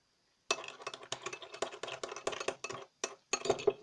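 Baby-oil slime stirred in a container, a rapid run of close, crisp clicking and tapping strokes in a steady rhythm, with a short pause before a final burst.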